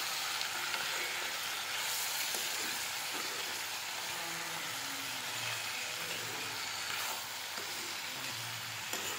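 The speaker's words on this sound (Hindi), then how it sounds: "तो इसे अब हम भूनने देते हैं अच्छे से।" Mixed vegetables of cauliflower, potato, peas and brinjal sauté in a pan with a steady, moderate sizzle and frying hiss that carries on without a break, with no talk.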